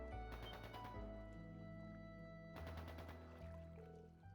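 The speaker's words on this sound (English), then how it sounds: "Is it gunfire?" Distant gunfire in the video game Trails into Reverie: two muffled bursts of rapid shots, one near the start and another midway, over a low background score.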